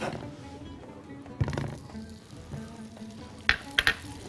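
Butter sizzles in a hot pan while chicken stuffed with liver and gizzards is prepared, a steady low frying hiss broken by a few clinks of a utensil against the pan, with no talking.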